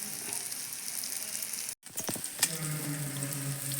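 Sardines spiced with pepper fry in a pan with a steady, bright sizzle that cuts out for a moment, then returns with a few clinks and scrapes of a spatula before settling back into constant crackling.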